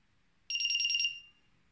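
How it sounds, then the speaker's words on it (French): The moisture probe of an automatic garden sprinkler gives a single rapid electronic beep burst, a high pulsing tone lasting about half a second, clear and close in otherwise quiet surroundings. "bip bip bip bip, ça veut dire que non, je fais une mesure"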